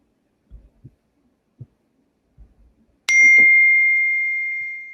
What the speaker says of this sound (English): I turned off my cell phone ringtone, but then it's like still alerting me on my computer